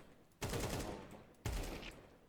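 Two loud, close gunshots ring out in the video game Counter-Strike 2, each a sharp blast followed by a short decaying tail, spaced about a second apart.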